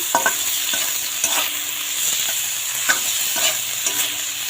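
Steamed dandakalas greens, a medicinal leafy green, are stirred in a hot pan, sizzling steadily while a spatula scrapes and taps the pan in irregular strokes. The sound is close, with no talk.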